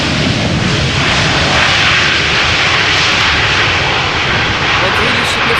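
An SAS Airbus A320neo lands at Amsterdam Schiphol with light reverse thrust, giving a loud, steady roar of jet engines that fills the whole stretch while someone comments over it.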